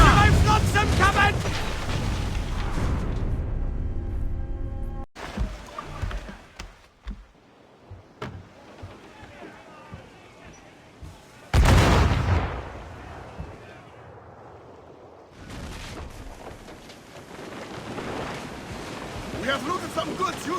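Naval cannons fire in a pirate ship battle in Assassin's Creed Black Flag, with loud booming volleys, sharp blasts and bursts of rumble over ocean and ship ambience, with some game voices.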